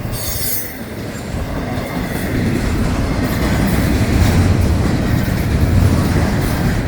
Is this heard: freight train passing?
yes